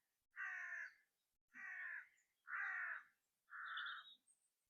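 A crow caws in a quiet garden: four harsh, evenly spaced caws, each about half a second long, in an otherwise still setting, fairly distant and faint, with no voices.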